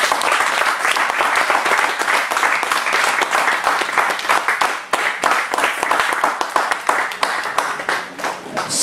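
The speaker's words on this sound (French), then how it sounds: "Acclamons très fort le Seigneur." A church congregation breaks into loud, sustained applause, dense clapping from many hands filling the space for the whole stretch, swelling and pulsing toward the end.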